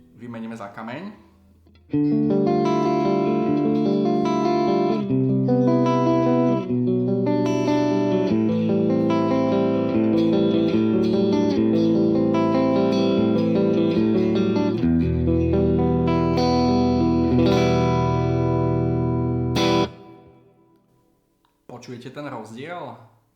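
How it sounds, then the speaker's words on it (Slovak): Distorted electric guitar picked with a stone pick, loud sustained chords and bright notes ringing for most of the stretch, with brief talk before and after the playing. "Keď hrám kameňom, tak tie tóny sú jasnejšie, je to také brilantnejšie."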